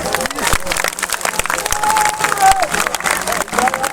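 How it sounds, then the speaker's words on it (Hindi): A crowd at a political rally in Rajaun, Bihar, claps and cheers in loud ragged bursts while someone speaks over a microphone. "यही है रजौन की ताली, जरा जोरदार ताली बजाइए।"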